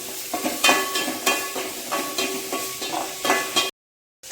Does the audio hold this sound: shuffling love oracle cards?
no